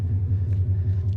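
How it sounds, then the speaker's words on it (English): A 2019 Ford Mustang GT idles steadily after several minutes of running, a deep, even low-frequency rumble with a slight pulsing throb, close and continuous with no talk. "Car's been running for 5-6 minutes"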